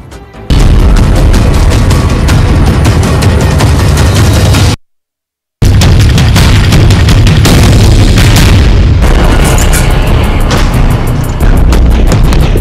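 Heavy booms from Russian missile strikes and air strikes in Ukraine, loud and dense with overlapping bursts and crackling, broken by a brief silent gap midway.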